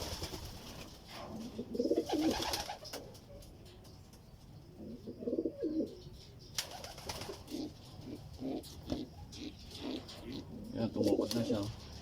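Racing pigeons at a home loft in San Fernando, La Union, coo in soft, repeated bursts close by as a race bird returns, with people talking quietly in between.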